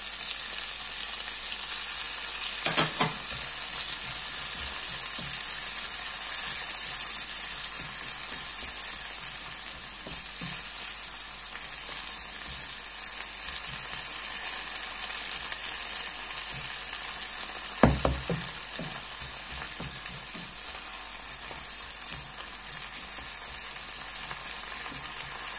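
Pepper fries in an oil-filled pan for Spanish shrimp soup, a loud, steady close sizzle that runs throughout, broken by a couple of brief stirring knocks.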